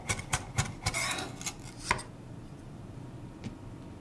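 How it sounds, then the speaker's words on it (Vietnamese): A knife chops two shallots on a board, a quick run of sharp, close taps over about two seconds before the kitchen falls quiet. "Băm nhỏ 2 củ hành tím nè."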